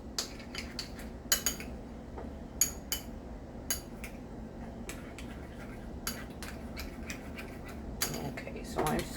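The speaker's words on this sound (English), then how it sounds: "Okay, so I'm stirring that really good" A spoon scrapes and clinks against a bowl while tartar sauce with relish is stirred, producing a steady run of soft, close scraping taps with occasional louder knocks.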